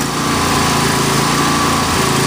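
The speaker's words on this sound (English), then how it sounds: "Give the engine some gas here." A John Deere LA120 lawn tractor engine revs up, a steady, loud, close mechanical drone that holds high throughout with no talk over it.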